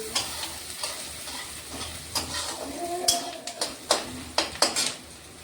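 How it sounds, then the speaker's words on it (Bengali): Soft sizzling of onions frying in a pan, broken by sharp scrapes and clinks of a utensil stirring against metal, growing busier toward the end. "পেঁয়াজটা ভালো করে ভেজে নেব।"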